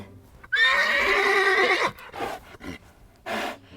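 Horses neigh and whinny loudly up close, one long drawn-out call followed by shorter snorting whinnies and a final brief neigh, heard in a kids' camp Bible story setting.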